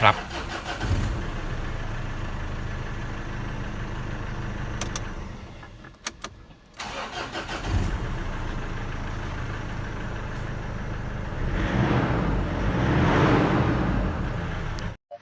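Mazda BT-50/Ford Ranger pickup truck engine cranks and catches, then settles into a steady idle that rises briefly near the end; someone talks over it at times.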